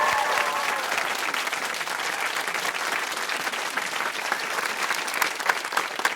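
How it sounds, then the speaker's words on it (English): An audience at a high school quiz show between Hingham and Whitman-Hanson applauds both teams, a dense, even wash of many hands clapping throughout with a few brief cheers. "Can we have a round of applause for both teams?"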